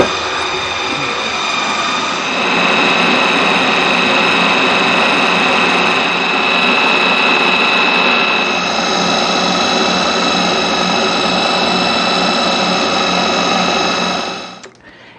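A food processor runs continuously with a loud, steady motor whine while blending almonds into almond butter, and it cuts off at the very end.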